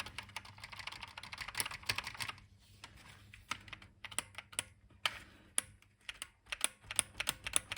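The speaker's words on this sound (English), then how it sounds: "What was it clicking for? It wasn't clicking before." Keys on a Didaktik M home computer keyboard, freshly cleaned and lubricated, click and clack in an irregular run of sharp taps, close up against a low background hum.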